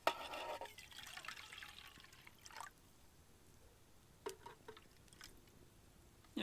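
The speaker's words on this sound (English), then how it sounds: "Add a little bit of water." About eight ounces of water is poured into a serving container at an overnight woods campsite, a brief splashing pour followed by faint trickles and a few scattered drips.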